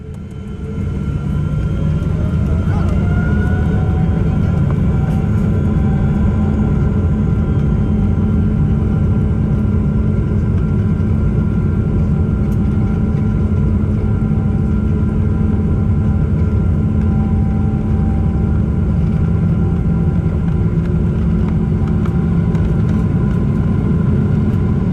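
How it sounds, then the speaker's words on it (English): KLM Boeing 777-200ER engines spooling up to takeoff thrust, heard from inside the cabin: a deep, powerful roar builds within the first seconds and holds steady and loud, with a rising whine layered over the rumble. "Our pilots advance the throttle levers and away we go."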